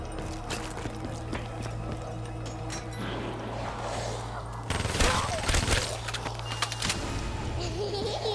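A new gun firing at a zombie in Black Ops 3 Zombies, rapid bursts of gunfire, sharper and louder in the second half, over a low steady game hum.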